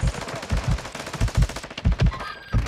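Gunfire in a shooter video game: rapid bursts of automatic fire crack out in repeated clusters, loud and close, with a few isolated shots trailing at the end.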